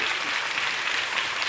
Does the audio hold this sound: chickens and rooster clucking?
no